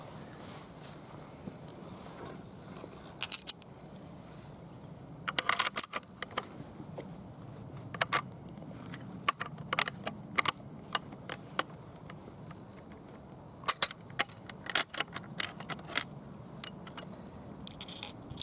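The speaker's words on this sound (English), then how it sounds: "getting your bolt carrier in can be a bit tricky some of the time" Metal parts of a Russian SKS-45 rifle being handled while the bolt carrier goes in: scattered sharp clicks and jangling metallic clinks in irregular clusters over a quiet background, with no talking.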